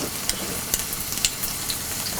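Crushed shallots and garlic sauté in hot oil, a steady close sizzle with several light spatula clicks spaced across the brief moment, no speech.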